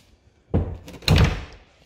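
Closet door in a house being opened and shut, two close wooden thumps about half a second apart, the second one louder and heavier, in an otherwise quiet room.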